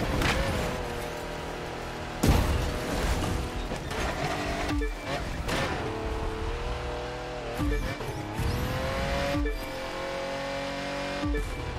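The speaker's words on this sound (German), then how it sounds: "Bisschen ins Schleudern gekommen." Racing video game car engine droning at high revs, with repeated gear shifts and a skid as the car slides wide, loud and continuous throughout.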